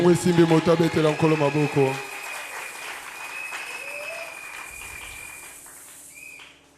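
A voice speaks briefly at the start, then a church audience breaks into applause, a steady, moderately soft wash of clapping that carries on to the end with a faint thin whistle-like tone above it.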